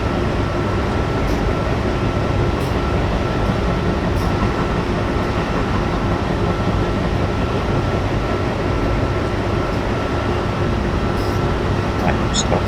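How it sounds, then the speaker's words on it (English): A train rumbles past on the slow line in a zombie-apocalypse train-driving video game, a steady, dense roar that holds evenly from start to finish. "we have to wait for the unresponsive train to go past the slow line"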